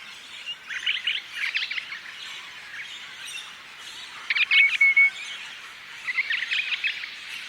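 Eastern and pale-headed rosella parrots give high chirps and whistled calls in several bursts with short pauses, moderately close, over faint background hiss.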